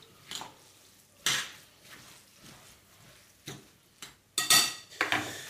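Warm japchae sweet potato noodles with egg and sesame seeds being mixed in a bowl, giving scattered clinks and scrapes of utensils against the dish in irregular bursts, fairly close and otherwise quiet; no speech.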